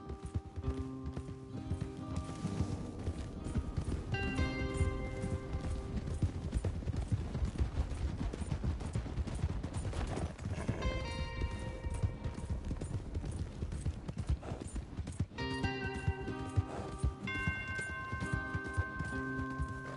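Horses gallop in Red Dead Redemption 2, a steady, continuous clip-clop of hooves running throughout, with occasional faint tonal music and background game sounds layered over the hoofbeats.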